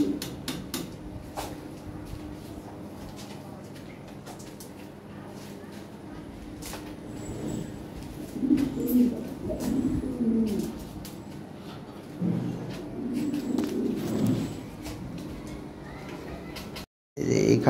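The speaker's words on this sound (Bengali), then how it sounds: "এখানে এক পেয়ার কবুতর আছে ভাই, দেখার মতো" Several pigeons sold in pairs coo in repeated low, throaty bursts, loudest in the middle and near the end, over steady background hum with faint human voices at times.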